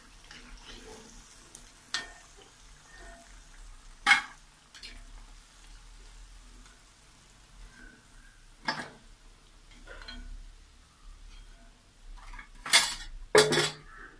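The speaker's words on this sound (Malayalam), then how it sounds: "ഇനി നമുക്കിത് എണ്ണയിൽ നിന്ന് കോരി മാറ്റാം" Fried curd-batter snacks are lifted out of hot oil with a metal utensil, making sporadic sharp clinks and scrapes against the pan over a faint, steady sizzle.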